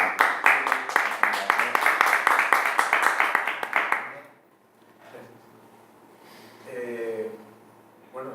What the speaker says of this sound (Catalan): primer aplaudim per la vostra